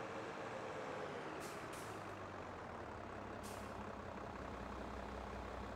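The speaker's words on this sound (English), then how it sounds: "Traffic goes pretty fast" Road traffic in the Farming Simulator 22 farming game, a faint steady rumble of passing vehicles and engines with short hissing truck air brake bursts at about one and a half and three and a half seconds.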